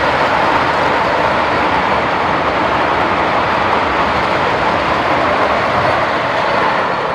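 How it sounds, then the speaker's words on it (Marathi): Saffron Vande Bharat train passing, a loud, continuous close rush of rolling noise holding steady throughout without a break. "आता पहिली ट्रेन आलेली आपली सॅफ्रॉन वंदे भारत"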